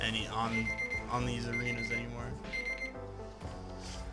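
An alarm clock rings with a steady repeating electronic tone, running beneath game sounds and someone talking during Rocket League play.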